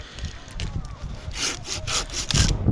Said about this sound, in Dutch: De ceder, die zaag je